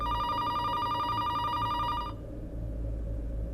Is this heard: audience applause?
no